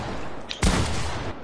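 A single loud gunshot blast from a Fortnite weapon rings out mid-clip over a steady background hiss, with a faint click just before it and a short decaying tail.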